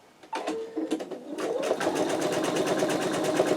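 A sewing machine stitches an in-the-hoop wallet, starting with a few slow separate needle strokes and then settling into a fast, even, continuous rattling hum, close and moderately loud.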